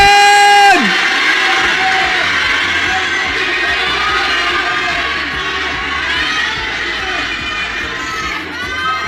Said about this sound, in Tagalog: Tatagal tayo sa sigawan ninyo